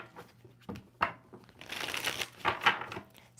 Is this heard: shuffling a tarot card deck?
yes